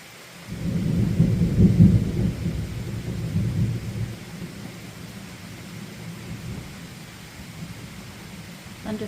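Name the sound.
thunder echoing off the mountain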